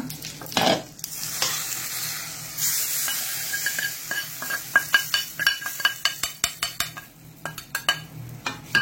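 Garlic sizzles in hot oil in a pan for a Mangalore-style green peas sukka, while a spoon stirs and scrapes with a quickening run of sharp metallic clinks over the steady frying hiss.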